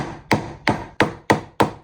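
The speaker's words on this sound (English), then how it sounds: "I'm going to pop in 2 tacks again, and I'm going to do a figure of 8 and hammer these home." Five sharp hammer strikes drive upholstery tacks into the wooden frame of a Victorian antique armchair, evenly spaced, close and loud with no talking.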